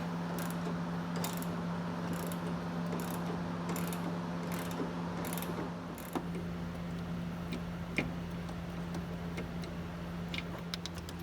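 Ratchet wrench clicking as it turns a bolt on the front sway bar bracket of an S550 Ford Mustang, a rapid close burst of clicks followed by quieter scattered ticks over a steady hum.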